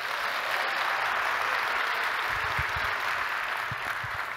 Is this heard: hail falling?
no